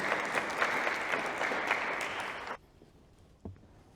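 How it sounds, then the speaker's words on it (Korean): A church congregation at a Korean Easter service in Berlin applauds, a dense steady patter of many hands that stops abruptly, followed by quiet room tone and a brief thump. "인사하고 들어갈 때 박수로 고맙습니다."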